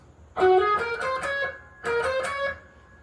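A distorted electric guitar plays a bending, sustained lead phrase in two bursts, bright and loud with a singing tone.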